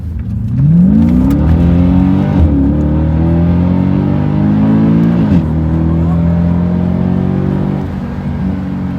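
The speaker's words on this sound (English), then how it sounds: "setting off in the AMG C63 Black Series with a modified exhaust" A loud, throaty Mercedes W204 C63 AMG Black Series with an FI catback exhaust revs up and accelerates hard, engine pitch climbing through gear changes with a brief drop between shifts, heard from inside the car.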